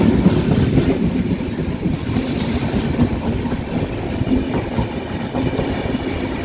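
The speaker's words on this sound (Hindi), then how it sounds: "ये देखो, राजधानी एक्सप्रेस, वाह।" The Hazrat Nizamuddin–Madgaon Rajdhani Express rushes past close by, a continuous loud rumble with rhythmic clatter of wheels and wind noise throughout.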